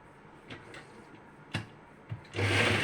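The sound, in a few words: sewing machine stitching a nighty seam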